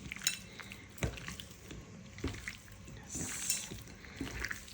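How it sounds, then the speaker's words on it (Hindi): Chicken being mixed with masala in a bowl gives irregular clinks, scrapes and soft wet squelches from a utensil against the bowl, close and fairly quiet, with no speech. "इसको मैं मसाला ऐसे मिक्स कर दूँगी"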